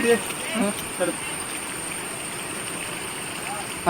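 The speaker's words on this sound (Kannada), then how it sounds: "ಇಲ್ಲೊಂದು ಸಣ್ಣಗೊಂದು ನದಿ" A small stream near Bandaje waterfall, Belthangady, rushes and babbles steadily nearby, a constant watery hiss, with a few faint voices near the start.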